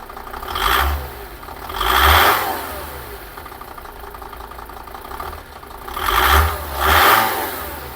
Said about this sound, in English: So here we have the mighty OM 602 diesel engine.